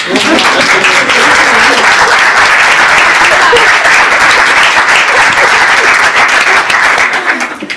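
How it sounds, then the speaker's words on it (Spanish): Loud, continuous applause from the audience at a book presentation, a thick, even roar of clapping hands that stays steady throughout and tapers off in the last moment. "Un aplauso para ella."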